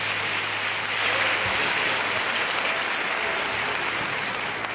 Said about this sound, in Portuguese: Eu gostaria que você também aplaudisse ao Senhor pela vida do servo de Deus, pastor Marco Feliciano.